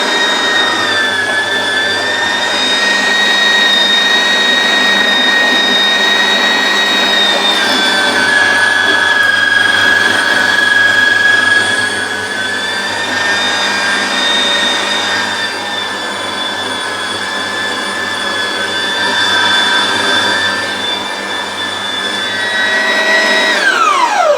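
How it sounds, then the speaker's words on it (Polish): An electric meat grinder minces turkey meat with garlic, giving a loud, steady motor whine that holds without pause. "I mielimy to wszystko. Do tego od razu wrzucamy czosnek."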